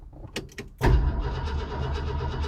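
A Mercury Monterey engine cranking with no fuel supply: a couple of faint clicks, then a loud, steady churning starter drone that runs unbroken for well over a second, close by with no voices.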